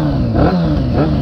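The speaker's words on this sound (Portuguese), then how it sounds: "Olha como essa moto tá subindo de giro" A carbureted Honda CB 600F Hornet motorcycle engine revs steadily up and down, loud and close, with a rough mechanical rumble and no voices.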